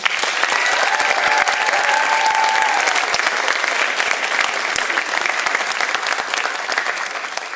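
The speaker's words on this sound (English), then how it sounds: "Let's give one last round of applause for our finalists for doing so well today." Audience applause for poetry recitation finalists at a girls' school, a sustained full round of clapping from a large crowd that stays strong for several seconds, with a brief voice briefly audible early on.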